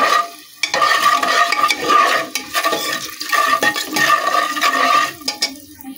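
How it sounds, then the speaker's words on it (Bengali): Kashmiri chili powder hits hot oil in a pan for a vegetarian tarka and is stirred, making a loud, continuous sizzle with scraping strokes and short pauses. "এরপর দিয়ে দেবো অল্প করে কাশ্মীরি লঙ্কার গুঁড়ো।"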